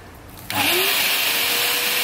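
A Bissell SpotClean Automate carpet cleaner switches on abruptly after a quiet moment, then runs with a loud, steady vacuum-like roar and whine close by.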